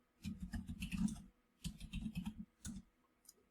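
Bursts of typing on a computer keyboard while entering measurements in design software, three quick runs of close, crisp key clicks separated by short pauses.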